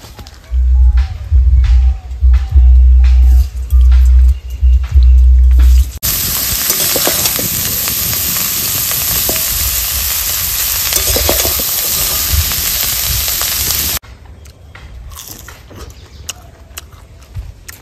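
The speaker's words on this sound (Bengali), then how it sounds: "রোস্টের জন্য যে ফুলকপিগুলো সেদ্ধ করে নিয়েছি ওগুলো সাদা তেল দিয়ে অল্প আঁচেই ভেজে নেব" Boiled cauliflower frying in white oil over low heat, a steady bright sizzle filling most of the clip, preceded by rhythmic thumping stirs or clatters and followed by softer scraping sounds.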